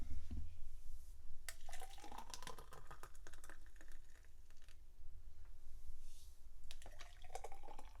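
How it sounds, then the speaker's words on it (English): Blended homemade grape juice poured into a couple of glasses, with an uneven liquid trickle and splash broken by small clinks and taps at close range, and no talking. "let's pour a couple of glasses here"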